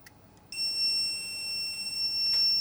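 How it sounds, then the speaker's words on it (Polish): After a brief quiet moment, a high electronic alarm tone switches on and sounds continuously at a steady pitch, alone and fairly clear. "Zobaczmy dla przykładu, co się zadzieje, gdy wyzwolę alarm pożarowy."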